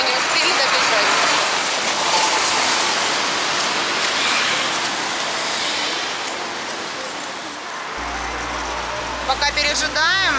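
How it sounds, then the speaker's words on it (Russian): Rain shower starting on a street in Bangkok, a steady broadband hiss of falling rain filling the whole stretch, with traffic noise mixed in and a brief burst of chirpy sounds near the end. "Начинается дождик."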